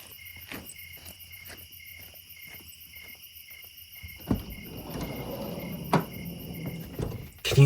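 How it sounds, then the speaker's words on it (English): Crickets chirping at night outdoors in a rhythmic, pulsing trill that repeats steadily, joined midway by soft rustling and a few knocks close by. "Yeah, the crickets. What a beautiful white noise."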